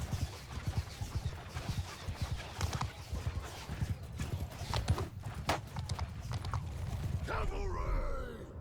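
Cavalry horses charge in Mount & Blade 2: Bannerlord, a dense, continuous clatter of many hooves with a horse whinnying near the end, under battle noise and faint voices.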